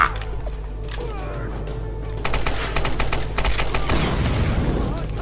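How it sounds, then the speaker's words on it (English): Automatic machine gun fire in the Tomb Raider Definitive Edition game, a rapid run of sharp bursts joining loud continuous game action after a quieter opening, with a voice speaking faintly underneath. "Now I have the machine gun."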